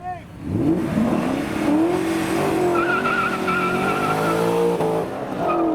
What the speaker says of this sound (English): will the M5 keep its traction underfoot with its rear-wheel drive?